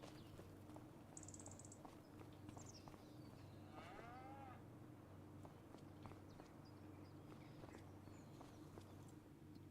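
Cattle lowing in Farming Simulator 25 on a large dairy operation, a single drawn-out moo rising near the middle over a steady low farm ambience and faint scattered knocks.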